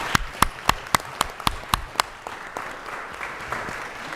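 A few hands clap at a city council meeting in an evenly spaced run of about eight crisp claps that stop abruptly, leaving quiet room tone.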